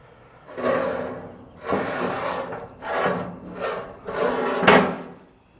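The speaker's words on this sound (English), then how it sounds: "just wiping this down" Broad rubbing strokes of a cloth wiping down the steel of an Old Country Pecos smoker, five long swishing passes in steady rhythm, close and fairly loud, with no talking.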